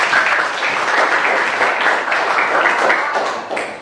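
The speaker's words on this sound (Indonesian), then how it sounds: "Tepuk tangan buat teman." Students in a classroom applaud a classmate who answered correctly, a steady dense patter of many hands clapping close by for nearly four seconds, tapering slightly at the end.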